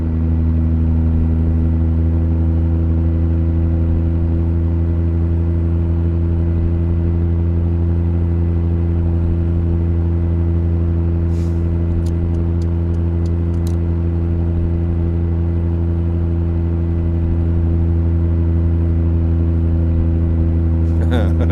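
Loud truck engine in a truck-driving video game, a steady heavy drone throughout with a few brief high clicks partway through.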